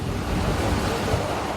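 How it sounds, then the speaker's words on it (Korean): Rough sea waves surging around a fishing boat out at sea, a continuous loud wash of water with wind buffeting the microphone. "거친 파도에 조업이 쉽지 않아 보이는데요."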